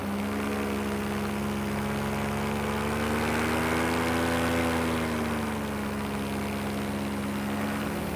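A model airplane's electric motor whines steadily in flight over a park, its pitch rising and falling smoothly as it passes, loud and continuous with no talking.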